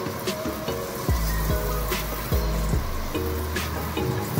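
Puri halved and deep-fried in shallow oil with a steady sizzle and bubbling, occasional louder bursts as the dough moves, close and continuous with no talking.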